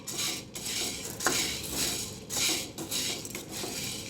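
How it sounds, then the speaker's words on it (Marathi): Chickpeas being dry-roasted in a pan, stirred with a metal spoon that scrapes and clinks against the pan in repeated close strokes, with no voices. "छान भाजून घ्यायचे हरभरे."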